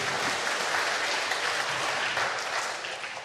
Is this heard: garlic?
no